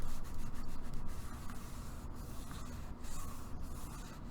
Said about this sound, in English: then I just lay that over, and you burnish it real well as always.